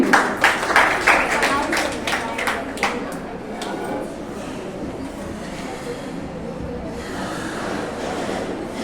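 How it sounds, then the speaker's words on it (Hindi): Audience applause for schoolchildren at a school debate competition in Jaipur, a burst of loud clapping that fades into scattered claps and crowd murmur, with a voice speaking over it. "और एक बार जोरदार तालियां उन सभी बच्चों के लिए"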